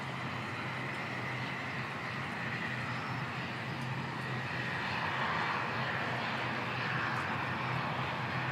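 A passenger plane landing at Christchurch Airport in wet, windy weather, a steady broad engine and wind roar holding at moderate distance and swelling slightly midway, with no voices.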